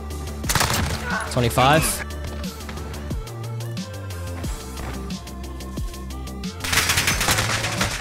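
Automatic fire from an AS VAL and other guns in a tactical shooter game, rapid bursts crackling in rhythmic clusters over game music and effects, with a voice calling out briefly.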